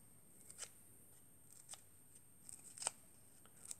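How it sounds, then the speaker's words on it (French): Scissors snipping a doll's hair fringe, a few faint, sharp, separate clicks spread over a few seconds in a quiet room. "Et ensuite, on va prendre un ciseau."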